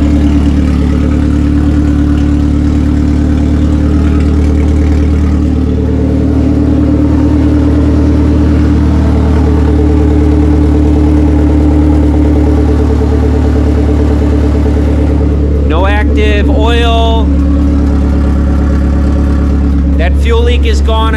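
Ecotec engine swapped into a Miata, running with no exhaust connected, idles loud and rough with a steady deep rumble throughout. A person speaks briefly over it near the end.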